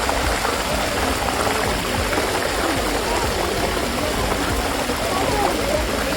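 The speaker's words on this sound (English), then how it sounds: "Warm water waterfall." Warm spring water spills down the travertine terraces at Pamukkale, a dense, steady rush of falling water that stays loud and unbroken throughout, with no pauses or talk.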